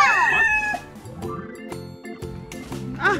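A rooster crows and chickens cluck in a farm chicken house, with overlapping calls and a loud crow rising near the end, heard close and with no talk over it.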